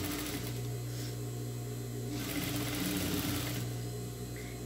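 A sewing machine stitches a seam on cloth in a steady, continuous run. It makes a close, even mechanical hum with a slight change in pace partway through.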